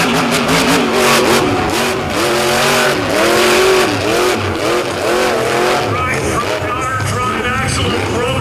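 The Dirt Crew monster truck, running with a broken axle, drives a beach track at a monster truck show, its engine revving loudly and continuously with rising and falling pitch while an announcer talks over it.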